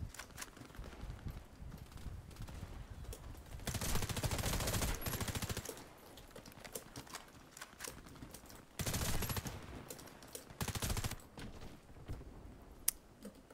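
Honey Badger rifle hip-fired in the video game Warface, with loud bursts of automatic fire around four and nine seconds and a shorter burst near eleven, separated by quieter in-game sounds.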